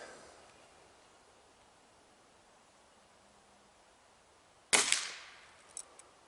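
A Gamo Swarm Maxxim air rifle fires one sharp, loud crack after a stretch of quiet outdoor hiss, followed by a couple of faint ticks.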